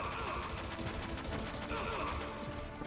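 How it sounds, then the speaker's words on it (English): Rapid gunfire in Metal Gear Solid, dense continuous bursts of shots filling the scene loudly and without pause. "it looks like she finally opened fire"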